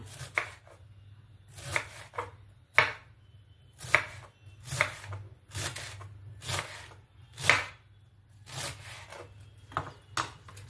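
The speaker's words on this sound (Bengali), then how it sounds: "প্রথমে আমি ছুরিটা দিয়ে মাঝখান থেকে দুভাগ করে কেটে নেব, দিয়ে একদম ঝিরি ঝিরি করে আমি বাঁধাকপিটাকে কেটে নেব।" Knife slicing a cabbage finely on a board, a series of crisp, quiet chopping strokes in uneven bursts with short pauses between them, no voices.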